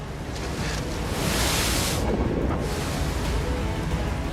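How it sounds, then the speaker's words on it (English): A big ocean wave breaks as the tide rushes in on an open shore, a loud broad roar of surf that swells and crashes, mixed with heavy wind buffeting the microphone. "This tide is really coming in now. Oh, big wave!"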